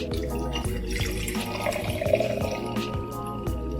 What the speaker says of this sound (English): We're gonna pour it in our glass.